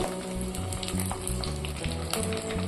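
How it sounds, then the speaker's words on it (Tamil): Mustard, fenugreek and cumin seeds crackle and splutter with popping in hot oil over a steady sizzle, short and busy, with a rhythmic low thumping underneath. "கடுகு வெந்தயம் சீரகம் இது மூணும் நல்லா பொரிஞ்சதும்"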